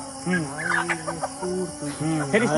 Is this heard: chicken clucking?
yes